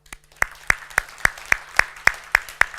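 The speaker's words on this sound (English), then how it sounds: "And I think that Lennart needs to applaud for that." Brief burst of conference audience applause at the opening of a mining conference in Skellefteå, Sweden, heard as about nine sharp, evenly spaced loud claps, like one or a few people clapping close by, with a low steady hum underneath.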